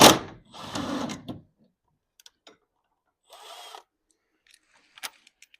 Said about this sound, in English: Loosen the drum, 7/16 12 point, 9/16 6 point